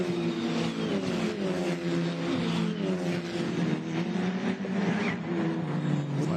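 Formula Regional Americas race car at Canadian Tire Motorsport Park during a sprint race: a steady, loud engine drone holds close and even throughout, with pitch wavering slightly as the car accelerates. No one speaks.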